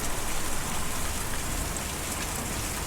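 Steady, dense rain pours down in the video game Kentucky Route Zero, a constant close wash of drops hitting a surface with no pauses, heard alone.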